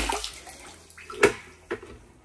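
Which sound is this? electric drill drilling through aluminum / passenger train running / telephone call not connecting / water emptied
water emptied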